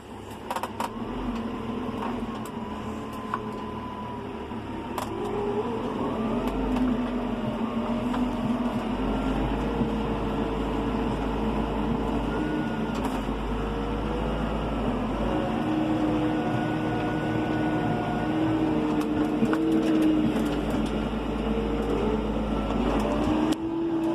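A 2001 Renault Ares 640 RZ tractor drives along with its engine droning steadily, a low rumble with shifting tonal whine and occasional clicks, fairly loud and close with no talking.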